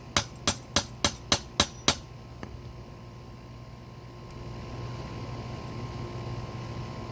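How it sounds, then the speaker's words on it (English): Seven sharp metallic hammer strikes driving a steel roll pin out of a Rieco Titan truck camper jack, in a steady rhythm, close and loud, then a quieter stretch of low background hum. "So let's get that roll pin knocked out of there"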